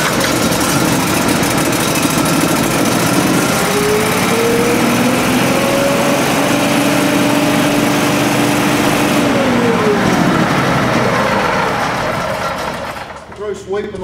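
The engine of a Schwarze SuperVac Aero street sweeper starts and runs loud and close with a steady droning rumble and a whining tone, then tapers off near the end.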